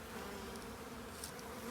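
Saskatoon honeybees buzz steadily inside a hive, a faint, continuous low drone with a few brief higher flickers, heard close with no talking.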